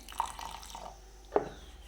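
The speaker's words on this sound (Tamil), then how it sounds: "அப்படியே நாங்கள் கொஞ்சமாக தண்ணி ஊற்றி அடித்து எடுத்துகிட்டு வருவோம்." A little water trickles and drips into dosa batter during grinding, with a few soft splashes and a light clink against the container in a quiet kitchen.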